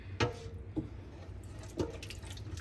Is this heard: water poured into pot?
yes